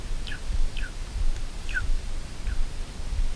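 A wild bird calls in dark woods at night beside a campfire, four short descending chirps spaced about half a second apart, fairly faint over a low crackling rumble.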